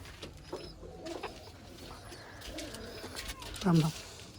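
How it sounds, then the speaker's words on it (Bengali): Pigeons cooing in a home pigeon loft, a soft low coo near the end rising above quiet background chatter and faint rustling, with a person talking lightly in the background. "এ হলো আমার কবুতর"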